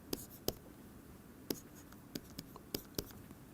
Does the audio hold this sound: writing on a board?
yes